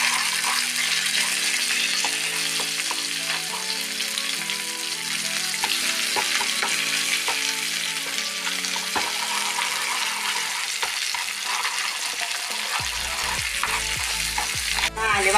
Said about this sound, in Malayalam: കടുക് പൊട്ടണമല്ലോ